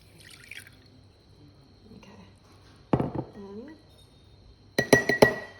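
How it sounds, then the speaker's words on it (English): Almond milk is poured into a glass in a kitchen, with a brief splashing, trickling burst followed by clinks of glass, under light talk. "And then I'm just gonna pour it in."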